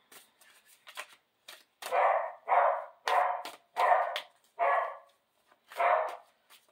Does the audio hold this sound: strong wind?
no